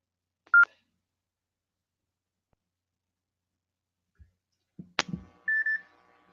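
Studio telephone gives a single short dialing tone, then a few quiet clicks and handling sounds, another sharp tone and a brief repeated beep pattern, separated by long silence.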